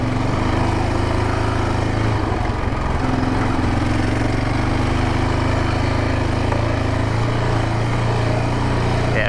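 A Yamaha Raptor 700R ATV engine roars continuously at full throttle on off-road trails, a loud, sustained drone with slight shifts in pitch throughout.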